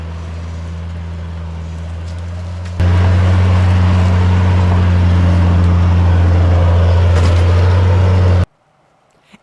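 Rally vehicle creeping over loose stones in the 2024 Spirit of the Charge, a low engine hum that swells to a louder, rougher drone partway through, then cuts abruptly to near silence.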